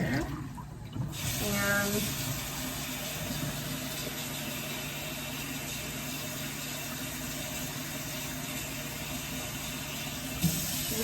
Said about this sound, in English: I gotta get fresh cold water. This is gonna be warmer. So we're gonna get some cold water here,